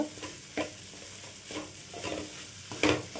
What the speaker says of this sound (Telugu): రెండు నిమిషాలు ఇలాగనే వేపు వేసుకోవాలి